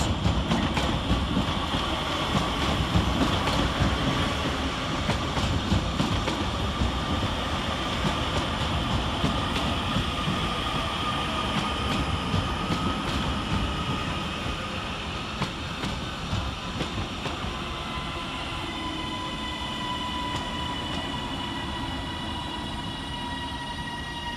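Class 331 electric passenger trains rumble past at close range at Manchester Oxford Road station, with continuous rhythmic clatter and a whining motor tone, slowly fading toward the end.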